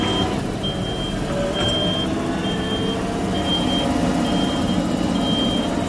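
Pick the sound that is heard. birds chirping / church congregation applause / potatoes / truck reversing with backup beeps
truck reversing with backup beeps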